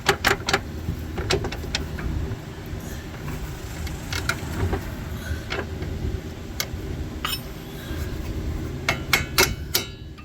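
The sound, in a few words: inserting bolts into Honda CR-V strut holes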